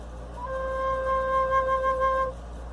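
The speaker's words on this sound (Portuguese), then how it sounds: "Esse é o som da flauta." Flute sounding a single sustained C, a soft, pure steady tone held for about two seconds over low background hum, alone without talk.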